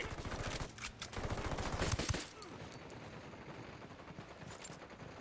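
Video game gunfire rattles in rapid automatic bursts, loud and dense for about two seconds, then breaks into scattered shots over background game noise.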